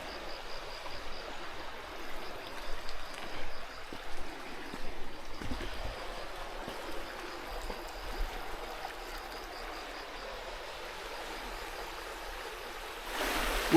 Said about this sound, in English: And this is our little creek.